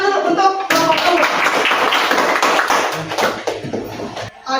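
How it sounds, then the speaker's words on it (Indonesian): Applause from a group in a classroom during an Islamic religious education teacher performance exam: dense, steady clapping that rises suddenly and fills most of the few seconds before stopping abruptly, with some voices underneath. "Tepuk tangan dulu untuk kelompok kelompok."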